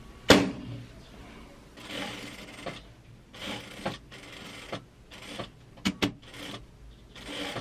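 A straight-stitch sewing machine runs a seam across fabric gathers in several short bursts of whirring stitching separated by pauses, with sharp clicks and handling knocks between runs, close and moderately loud.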